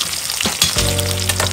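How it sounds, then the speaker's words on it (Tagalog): Pork steak meat dropped into a hot pan bursts into loud, steady frying and sizzling that swells after a brief clatter and holds continuously, with no voices. "ilalagay na po natin yung karne syempre. Lagay po natin lahat."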